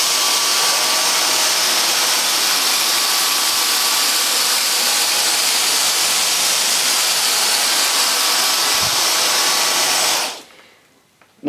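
A Dyson DC35 Digital Slim cordless vacuum cleaner runs on its regular power setting, a loud, steady whining motor roar that holds for about ten seconds and then cuts off abruptly into near silence.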